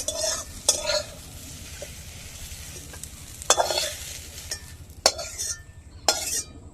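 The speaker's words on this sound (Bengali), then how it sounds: "আর এদিকে কিন্তু আমাদের চিচিঙ্গা ভাজা হচ্ছে" Snake gourd sizzles in a frying pan under a low steady hiss, while sharp scraping stir strokes of a utensil land at irregular intervals, several of them loud and close.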